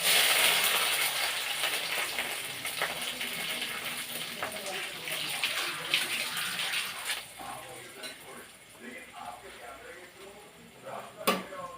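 Garlic, tomato and green chillies hitting hot oil, giving a loud initial sizzle that slowly settles into a steady crackling hiss, with talk over it and a sharp clatter near the end.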